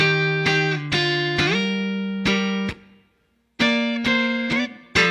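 Electric guitar strums the chord progression of a song: sharp, bright plucked chords struck in quick pairs and groups, ringing out, a brief pause, then more repeated strums, played alone and up close.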